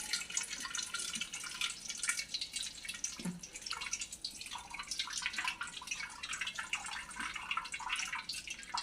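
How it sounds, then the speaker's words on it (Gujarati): Water trickles and splashes steadily as hot fresh paneer is washed and worked with a spoon, with a brief low knock partway through and a continuous liquid hiss throughout. "હવે હું થોડું પાણી એડ કરતી જઈશ અને ચમચા વડે એને ધોતી જઈશ"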